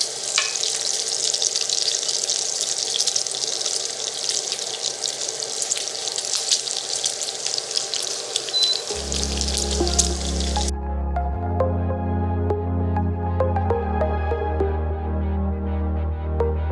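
Breakfast hash sizzles steadily in a pan on an AMZChef induction cooktop, a continuous close frying hiss with faint scrapes; partway through, a low steady hum and tonal buzz join in.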